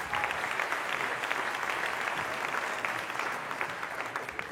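Audience applause at a comedy festival show, a dense burst of clapping from a seated crowd that carries on for a few seconds and slowly tapers.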